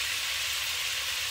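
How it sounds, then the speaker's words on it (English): Brown butter sizzling steadily in a hot pan as lemon juice is squeezed in, a brief, even hiss of frying with no pauses, close and alone. "to stop that butter from cooking, you wanna squeeze in about 1/2 lemon"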